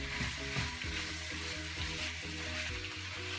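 An onion mixture for a homemade pasta sauce fries steadily in a pan, giving a close, continuous sizzle with no talking, while a low tonal hum runs underneath.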